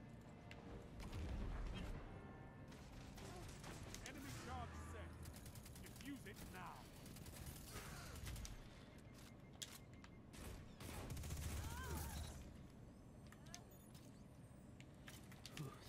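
Bursts of submachine gun fire in the shooter Destiny 2, mixed with explosions and game effects, running loud and dense through the whole stretch.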